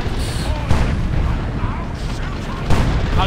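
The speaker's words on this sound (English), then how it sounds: "We've got some shots that are going off there as well." Cannon shots boom during an Ork versus Eldar battle in the real-time strategy game Dawn of War, with a few heavy blasts standing out from a dense, continuous wash of battle noise.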